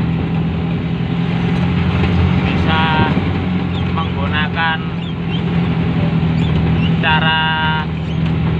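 A steady engine drone from a homemade car powered by a 100cc Honda Supra motorcycle engine runs throughout, close and loud, with someone talking over it.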